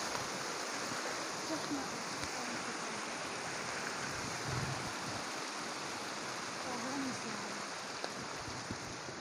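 Steady broadband rush of flowing clear stream water in Kalam valley, Swat, continuous and even throughout, with no voices.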